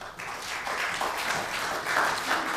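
Audience applause fills a 2015 League of Women Voters mayoral candidate forum in Kansas City, a dense, steady wash of many hands clapping throughout the short stretch with no talking.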